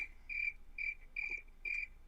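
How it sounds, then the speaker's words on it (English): Crickets chirp in steady, evenly spaced pulsing bursts, faint and distant against a quiet low background, with no voices. "There's crickets."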